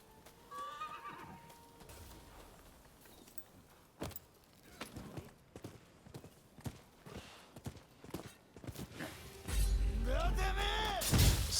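Horse hooves clop in the Rise of the Ronin video game, a steady run of hoofbeats mixed with a horse's whinnies and game combat noise, with someone talking over it.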